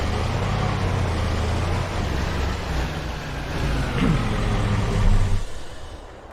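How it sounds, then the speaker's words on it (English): A loud truck engine in Farming Simulator 22 drones steadily and close, a heavy low rumble that holds for several seconds and then drops away near the end. "That truck is so loud."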